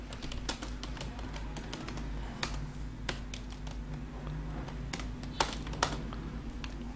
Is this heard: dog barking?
no